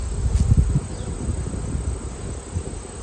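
Honeybees buzz at an opened hive during a mite check, a dense close hum with a few louder low bursts near the start.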